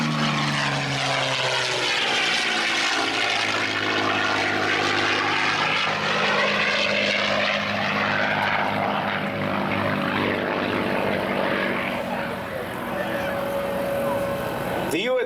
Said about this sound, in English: Listen to the sound of this Rolls-Royce designed Packard-built Merlin engine.